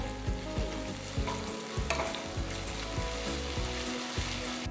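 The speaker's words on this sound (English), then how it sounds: "Saute the onions till they are a nice golden brown color." Onions browned to golden with a spoonful of ginger garlic paste sizzle steadily in a pan, with regular scraping stirs knocking through the frying hiss, close and alone.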